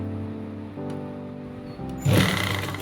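A sewing machine stitches a trouser pocket, a steady mechanical hum that shifts pitch partway through, then swells into a louder, denser run of stitching near the end, close up with no talking.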